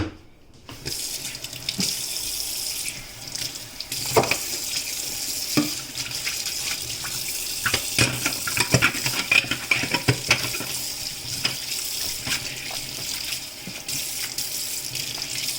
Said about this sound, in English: I want to clean up my sink